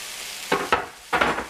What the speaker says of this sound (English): I will add the fresh parsley and kind of stir that up.